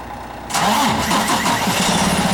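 A truck engine cranks and catches after a short quiet pause, then settles into a steady, loud, close idle rumble.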